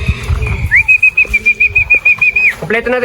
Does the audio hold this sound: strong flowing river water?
no